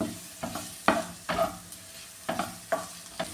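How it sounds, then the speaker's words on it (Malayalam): Tomato sautéing with spices in a pan for pepper chicken, a gentle sizzle punctuated by about seven rhythmic spatula scrapes and knocks, close and clear, no talk. "ഈ ടൊമാറ്റോ ഇതിലിട്ട് നന്നായിട്ടൊന്ന് വഴറ്റിയെടുക്കാമേ."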